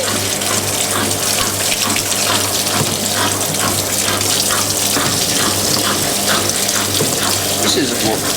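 Water gushes steadily into a 2002 Kelvinator K605 washing machine through its cold water solenoid, a constant loud hiss and rush with a low hum beneath, lasting without break.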